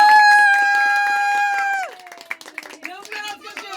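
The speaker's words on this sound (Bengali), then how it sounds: "দেখেন জোরে হাততালি" A crowd claps loudly for a birthday, a bright burst over a sustained tone, then scattered uneven claps with voices mixed in.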